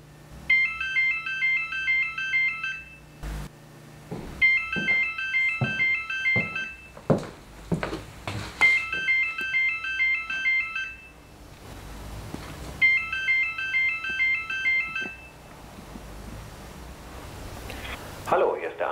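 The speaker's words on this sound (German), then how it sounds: "Wenn jetzt schon dein Telefon klingelt," A telephone ringtone plays in repeated bursts of rapid electronic warbling tones, four rings with pauses between them, while people talk over and between the rings.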